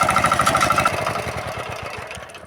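A kuliglig hand tractor engine idles near the edge of a rice field, a close, steady single-cylinder putter that slows and fades slightly before being switched off.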